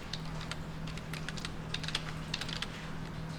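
Rapid, light tapping on a computer keyboard, close and fairly quiet, with irregular clusters of keystrokes and no voices.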